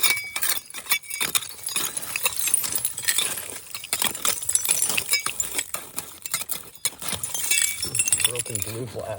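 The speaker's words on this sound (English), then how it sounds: "Broken blue glass in there." Broken blue glass clinks and scrapes in a dug-up woodland mound of old bottles and artifacts, with irregular clattering and knocks throughout under steady outdoor noise, while someone talks over it.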